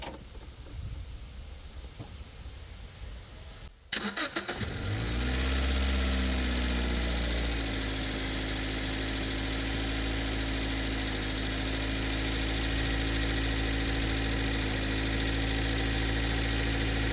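A semi-automatic Toyota engine cranks and fires at about four seconds after a quiet stretch, then settles into a steady, close, even idle hum that carries on to the end.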